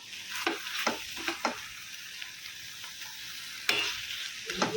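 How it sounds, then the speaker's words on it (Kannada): Vangibath rice frying with coconut and fresh coriander leaves, stirred in the pan: a steady close sizzle with scattered scraping spatula strokes, a sharper clatter near the end, no voices. "ಕೊತ್ತಂಬರಿ ಸೊಪ್ಪು ಹಾಕ್ತಾಯಿದ್ದೀನಿ ಚೆನ್ನಾಗೆ ಫ್ರೈ ಮಾಡಿ ಒಂದೊಳ್ಳೆ ಮಿಕ್ಸ್ ಕೊಡಿ"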